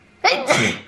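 A single sharp sneeze bursts out close by, short and loud, with no other sound around it.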